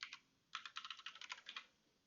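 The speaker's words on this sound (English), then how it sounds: "Type in my password" A password is typed on a computer keyboard: a few quick keystrokes, a short pause, then a rapid run of about a dozen crisp, close clicks before the keys fall quiet.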